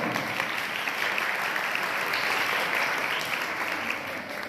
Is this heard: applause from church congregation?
yes